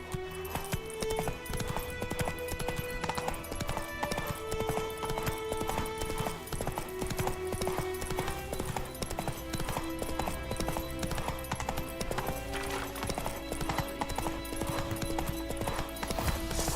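Hooves of a galloping horse clip-clop steadily throughout in The Witcher 3 video game, a fast continuous rhythm heard close and loud over sustained music tones, with an occasional faint whinny.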